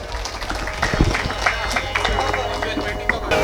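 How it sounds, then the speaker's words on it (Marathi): Crowd applause welcoming a young performer at a temple arts festival in Pedne, Goa, a dense, steady wash of many hands clapping throughout with some crowd murmur mixed in. "कार्यक्रम बघण्या अगोदरच तिच्यासाठी एकदा टाळ्या वाजवून तिचं स्वागत करा"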